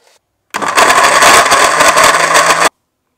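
A kitchen blender whirs through a shake of mixed berries (blackcurrants, redcurrants, strawberries, blackberries, sour cherries) and almond milk, a loud close motor roar running about two seconds before cutting off abruptly.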